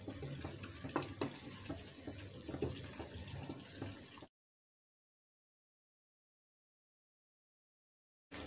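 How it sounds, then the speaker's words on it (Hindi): Water being strained off cooked food in a home kitchen while making chicken biryani, a steady close splashing run for about four seconds, then silence before a brief return at the end. "इनका पानी स्ट्रेन कर लेंगे"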